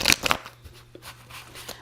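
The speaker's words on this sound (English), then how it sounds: "I feel like I just have to keep shuffling." Tarot cards being shuffled by hand, a few quick riffling bursts up close followed by softer intermittent card rustles.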